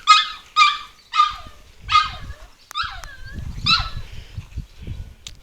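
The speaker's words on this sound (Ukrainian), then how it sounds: "Ой, собака вже кричить, в хату проситься." Dog barking outside near a house, a run of loud repeated barks and yelps carrying across the street, with low rumbling noise beneath the later barks.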